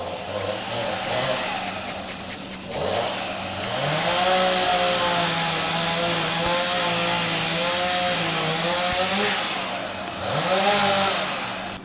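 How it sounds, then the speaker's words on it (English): A chainsaw revs and bogs repeatedly at a moderate distance, its buzzing pitch rising and falling over a steady engine drone. "Great time for a neighbor to start using his chainsaw"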